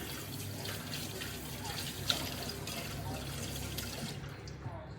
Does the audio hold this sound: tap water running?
yes